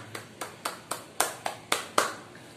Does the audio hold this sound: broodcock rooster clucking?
no